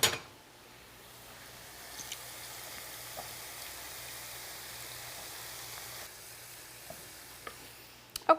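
Firm tofu sizzles steadily in a hot pan as it is broken into a ground-meat-like crumble for a bao bun filling, a soft, even hiss with a few faint scrapes and clicks and no talking.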